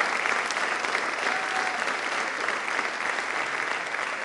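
A crowd applauds steadily, dense clapping that holds at an even level throughout without a break.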